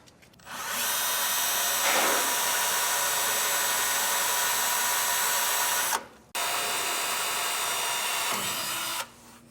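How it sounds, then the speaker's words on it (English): A right-angle drill with a 5/32 hex bit drives hex-head hardware while an Air Lift WirelessONE compressor system is fitted on a 2024 Ford F-series truck. It makes two sustained close whirring runs, separated by a short pause, each ending abruptly. "we were using a 5/32 bit to install it, and we'll use our right angle drill just so that we can get around everything in here"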